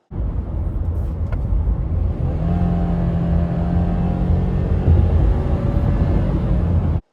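A Subaru Crosstrek accelerates at speed, its engine a steady, sustained drone from inside the car that rises gradually in pitch and holds loud for several seconds.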